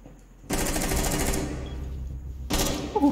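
Rapid automatic gunfire in the video game Rainbow Six Siege, two loud bursts, the first lasting about a second and a second burst near the end, close and sharp.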